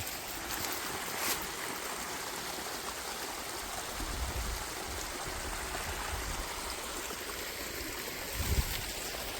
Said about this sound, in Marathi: पाणी आवाज येतो खरखर खरखर